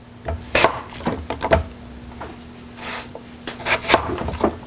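A knife cuts vegetables on a cutting board, making a series of sharp, close taps and thuds in an uneven rhythm with brief scraping strokes between cuts, with no talking.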